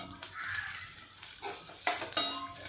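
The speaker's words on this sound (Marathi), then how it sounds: "भाज्या आपल्याला परतवून घ्यायच्या आहे" Vegetables including green beans stir-fried over a full high flame, with a continuous loud sizzle and scraping stir strokes of a spatula against the pan, close up and with no talking.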